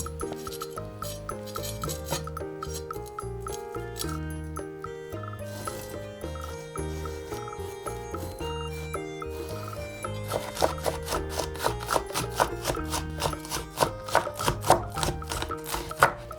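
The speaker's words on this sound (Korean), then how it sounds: "색감을 위해 홍고추 2개를 씨를 빼내고 잘게 잘라줍니다" A knife finely chopping two deseeded red chili peppers on a board: quick, steady rhythmic taps under background music, close and fairly quiet, speeding up and growing more distinct toward the end.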